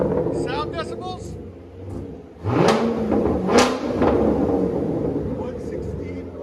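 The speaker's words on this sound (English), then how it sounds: "Much better. Now it sounds like a Corvette." A 2017 Chevy Corvette Z51 Stingray with an LT1 V8 and straight-pipe dual exhaust idles with a low rumble, then blips the throttle twice into loud, sharp revs, with people talking around it.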